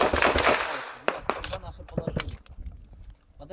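Close gunfire during fighting at the Donetsk airport weather station: a few sharp, separate shots over about three seconds, following a stretch of loud men's speech at the start.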